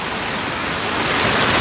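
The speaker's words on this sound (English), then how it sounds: "it might be raining, but I'd rather be nowhere else than this town" Rain falls steadily outdoors at a small-town campaign launch, a dense, even hiss of drops that builds slightly, with no voices.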